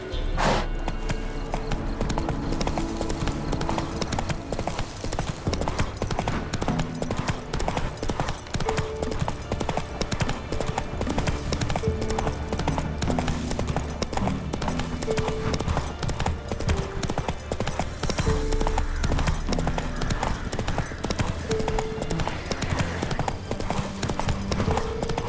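Hooves of Roach, the horse in The Witcher 3, clip-clop in a fast, continuous gallop for the whole stretch, loud and close over game music, with a faint neigh and a little talk.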